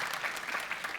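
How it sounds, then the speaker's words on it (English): An audience at a tech conference claps in a short, dense burst of applause, many hands heard at moderate distance. "The round of applause for Dmitri there."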